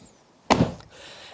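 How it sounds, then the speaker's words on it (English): An SUV door swings shut with a single solid, close thud, followed by a brief rattle and quiet cabin ambience afterward. "We're going to be able to close this door no problem."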